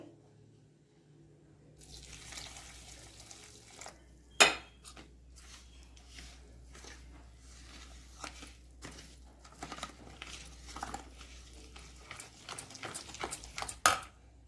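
A spoon works through sponge cake batter and milk in a bowl, giving irregular wet scraping with small clinks against the bowl and a couple of sharper knocks.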